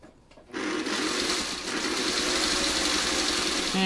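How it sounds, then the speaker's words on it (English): Sewing machine stitching a Y seam on a hexagon-flower quilt piece, starting after a short pause and then running fast and steady, close up, with a hum and rapid needle chatter. "we're going to sew right off the edge"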